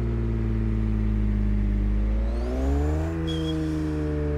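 Turbocharged Ferrari F12 tuned to 1,100 hp in Forza Motorsport 6, its engine droning loud and steady, then rising in pitch as it revs up, with a thin high turbo whine near the end.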